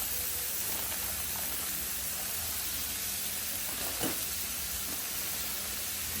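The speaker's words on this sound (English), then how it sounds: "So I have my onion here. Dump some onion in here." Chopped onion hits a hot pan and sizzles, a broad steady hiss of frying that holds evenly throughout, with a faint clatter partway through and no talk.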